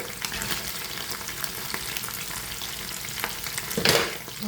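Food frying in a covered pan gives a close, steady crackling sizzle with faint stirring scrapes, which swells into a louder burst near the end, with no one speaking.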